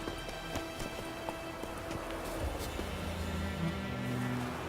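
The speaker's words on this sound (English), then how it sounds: "Get on that horse." Roach, the horse in The Witcher 3, gallops in a fast, uneven run of hoofbeats over a rough, rain-like wash of game ambience, with a low rumble building toward the end.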